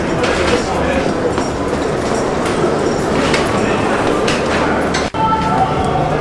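A New York City subway train rumbles and clatters steadily with rail noise close by, loud and continuous, while people talk over it.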